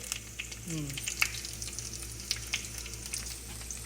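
Urad dal, cumin, mustard seeds and garlic sizzle in hot oil, a continuous close crackle with sharp pops and a brief tonal sweep early on, over a low steady hum.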